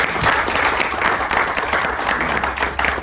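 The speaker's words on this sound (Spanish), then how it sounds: "Démosle un fuerte aplauso, por favor, a la doctora Cardona." An audience at a legal lecture applauds Doctor Cardona, a dense, steady wash of clapping that stays loud and even throughout, with no voices over it.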